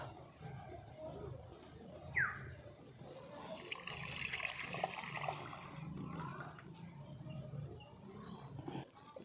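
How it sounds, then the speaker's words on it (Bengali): About a litre of milk pours into a wok set over a stove, a steady liquid rush that holds at a moderate level throughout, with a brief faint chirp early on. "দিয়ে দিচ্ছি আমি এক লিটারের মতো দুধ"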